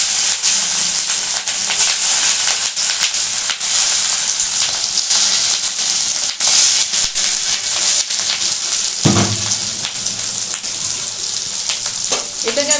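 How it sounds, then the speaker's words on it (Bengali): Pieces of fish roe dhoka frying with turmeric in a wok give a loud, continuous close-up sizzle and hiss, with a sharp clatter of stirring partway through. "এবার দেখো এগুলো আমি কড়াতে একটু হলুদ দিয়ে এটাকে আমি ভাজছি।"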